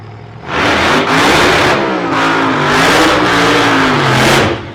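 An Australian nostalgia racing car revs hard and loud at a circuit, its engine note sounding rough. The roar comes in sustained, surging bursts with brief dips between them and no voices over it.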